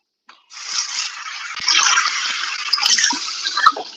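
Running water rinses over skin at the neck, a steady close splashing hiss that continues for several seconds with small splatters and shifts in flow.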